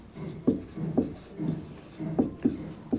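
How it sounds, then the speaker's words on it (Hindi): Chalk or marker strokes on a board during a chemistry class, a series of short, rhythmic scratching taps at roughly half-second intervals, close and moderately loud with no talking. "तो यहाँ पे एरो जाके लिखेंगे"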